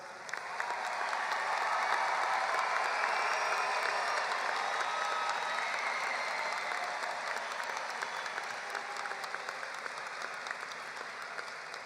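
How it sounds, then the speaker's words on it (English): Audience at a high school graduation ceremony giving sustained applause, a dense wash of clapping that swells early then holds steady before easing slightly, heard at a distance across a large hall. "Let's have a round of applause for this incredible class"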